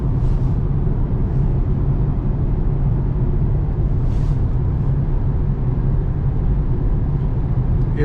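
A 2014 Ford Mustang GT 5.0, an ex-police interceptor, cruises at about 50 mph, heard from inside as a loud, steady low road-and-engine rumble with a few faint hissing swells.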